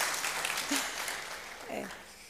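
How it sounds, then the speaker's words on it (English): Applause from a conference audience during an audit committee keynote, fairly faint clapping that swells briefly and tapers off, with a hint of voice mixed in. "I need a big round of applause for"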